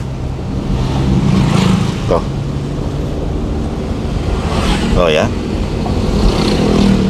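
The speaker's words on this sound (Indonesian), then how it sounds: "perhatikan suara motor." A motorcycle engine rumbles nearby amid road noise, with a brief passing surge; a person speaks a few short words over it.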